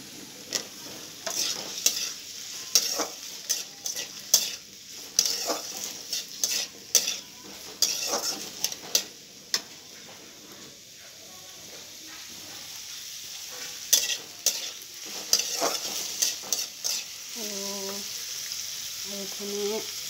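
Onions and tomatoes frying in oil in a home kitchen pan, stirred with a utensil: steady sizzle with repeated scraping stir strokes throughout, close and clear, no voices.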